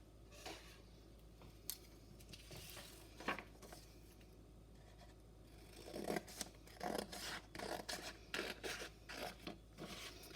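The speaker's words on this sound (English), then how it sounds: "Now you're going to cut it out." Scissors cut out a folded paper heart, making repeated close snipping crunches that come faster and more steadily in the second half, over a quiet low room hum.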